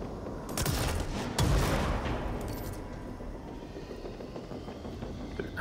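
A burst of rapid gunfire from the game Control, with loud cracks early that fade into a rattling, noisy tail at moderate volume.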